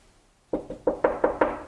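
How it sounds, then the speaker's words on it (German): Knuckles rap on a toilet door, six quick, evenly spaced knocks after a short silence, close, crisp and alone with no talking. "Klopf mal."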